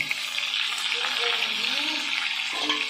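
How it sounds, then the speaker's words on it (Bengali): Pangas fish pieces fry in hot oil, giving a loud, continuous close-up sizzle and crackle with a few brief stirring sounds near the end. "এভাবে সব মাছগুলো ভেজে নিচ্ছি"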